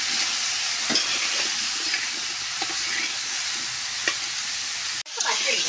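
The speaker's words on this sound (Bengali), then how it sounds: "মোটামুটি ভাজা হয়ে আসছে পেঁপে আর আলু।" Papaya and potato pieces fry together in oil with turmeric and salt, a dense, continuous sizzle close up, broken by occasional scrapes of a spatula stirring the pan and a sharp knock toward the end.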